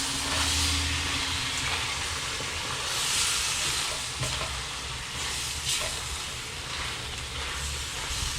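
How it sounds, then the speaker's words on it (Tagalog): Okra and string beans stirred as they fry in a pan with eggplant for pinakbet, a steady close sizzle and hiss with soft scraping from the stirring running throughout. "Haluin muna natin."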